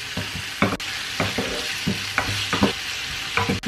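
Beef steak pancit canton noodles tossed and stirred in a hot sizzling pan, with a steady fry hiss broken by repeated short scraping and clattering strokes of the spatula, close and fairly loud.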